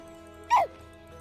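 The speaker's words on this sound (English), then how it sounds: "Now it's barking." A single short synthesized dog bark from a Minecraft server using the Figura mod, mid-volume and brief, standing alone over a steady low game background hum.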